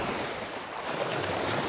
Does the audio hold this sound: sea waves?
yes